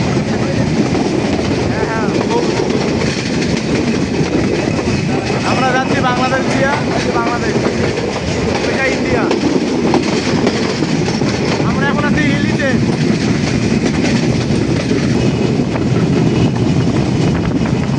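A passenger train running along the border near Hili on the Rangpur to Joypurhat line, with a steady loud rolling rumble and rail clatter throughout, people talking over it from inside the carriage.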